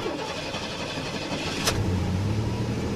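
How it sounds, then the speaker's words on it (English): Loud engine rumble filling a truck cabin while driving; a sharp click or clunk partway through, then the engine note deepens and grows louder. "This is a very loud truck to drive."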